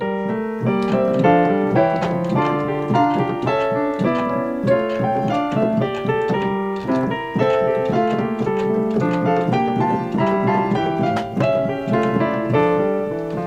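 Bach fugue on keyboard: several interweaving melodic lines moving steadily as the fourth and final voice joins the texture; played alone, bright and continuous.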